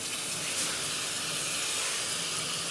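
Four or five medium tomatoes dropped into frying masala for aloo palak set off a loud, continuous hissing sizzle that stays steady and close throughout, with no talk over it.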